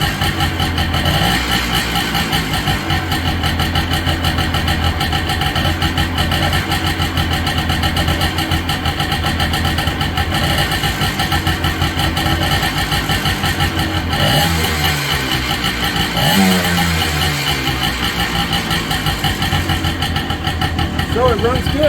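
Restored Honda ATC250R three-wheeler engine running after a hard start, a loud steady buzzing idle with some revving and a brief dip midway, with a voice talking over it.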